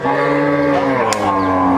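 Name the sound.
cow mooing at a cattle market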